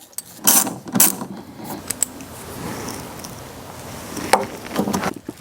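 A bolt being driven in to secure a tail light on a 2016 GMC Yukon, with quick ratcheting clicks and small metallic clinks of tool handling, close and moderately loud.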